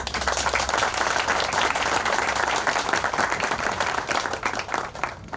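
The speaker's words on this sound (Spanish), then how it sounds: "Un aplauso, por favor." An audience at a university event breaks into sustained applause, dense clapping from many hands filling the room at a steady level throughout.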